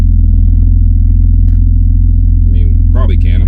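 BMW E36 convertible with an automatic gearbox pulling out and driving, a steady low engine rumble throughout with a couple of brief higher clunks and squeaks near the end; a person talks over it.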